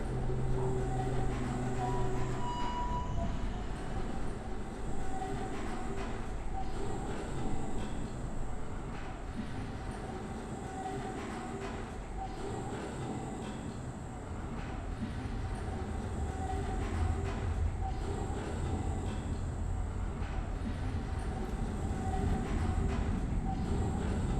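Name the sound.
tram moving in a video game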